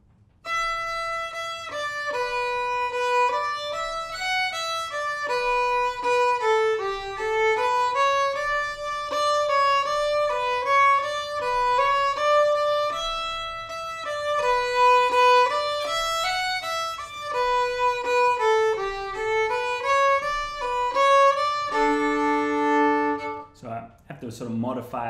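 A fiddle plays the old-time tune Squirrel Hunter with driving saw-stroke bowing, clear bright tones in a steady rhythmic pulse, close and solo, ending in a sustained chord.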